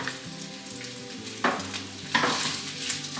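Sauce goes into a hot pan with chicken breast for cilantro chicken, giving a steady frying sizzle and two sudden bursts of louder hissing as the liquid hits the metal, with no voices.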